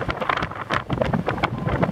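Snowstorm wind blows in blustery gusts across a closed road, rushing and buffeting close to the microphone in short surges.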